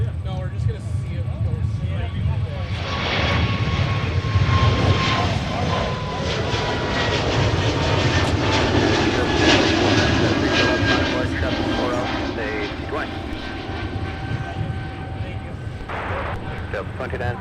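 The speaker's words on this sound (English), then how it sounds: "Atlas Air is waiting patiently for its turn to take the runway and depart for Seattle with the 747-400" Jet engines of an Atlas Air Boeing 747-400 idle while it waits to take the runway at Minneapolis–Saint Paul airport, a loud continuous roar with shifting whine under radio and commentary voices.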